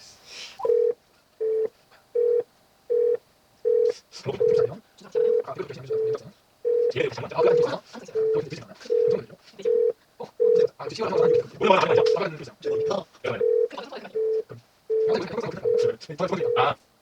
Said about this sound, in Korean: 이현주 학생에게 한번 전화를 걸어보겠습니다